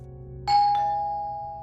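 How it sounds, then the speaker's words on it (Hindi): A single doorbell ding rings out in the evening, a clear sustained tone that slowly decays over a low steady background hum. "शाम को लगातार बजती घंटी की आवाज ने अभिनव को जगा दिया।"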